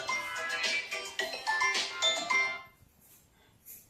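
A mobile phone rings with an incoming call, a repeating melodic ringtone played close and clearly for about two and a half seconds before it stops, leaving faint room sound.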